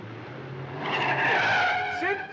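Car tires skid and squeal loudly during a car chase in a 1962 comedy film, rising from engine rumble into a sustained screech that lasts over a second before fading.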